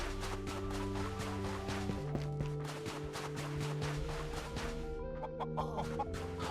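Chickens in the video game Medieval Delivery cluck and squawk repeatedly over steady music and sound effects, fairly quiet overall with no one talking.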